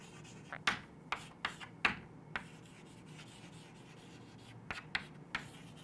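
Chalk or marker taps and strokes on a board during a biology lesson come as a handful of crisp, faint ticks and short scratches spread over a few seconds, with no talking.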